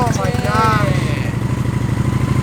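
A motorcycle engine bought at auction starts and runs with a steady, loud, close idle throughout, while people talk over it.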